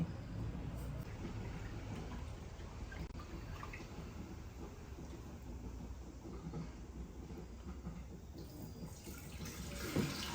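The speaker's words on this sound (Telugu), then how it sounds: "ఫస్ట్ అయితే మసూర్ దాల్ని బాగా కడుక్కుంటాం" Tap water runs steadily into a sink as masoor dal is rinsed and swirled, a low continuous rushing with a faint clink near the end.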